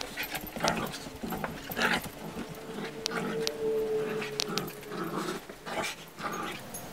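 A dog growls and whines in bursts, fairly close, with panting and short yips mixed in and a rough, uneven rhythm over light background noise.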